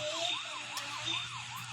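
Police car sirens wailing in a Vegas gangster crime video game, a loud, rising and falling electronic siren repeating steadily and close, with a low engine hum beneath and no talk.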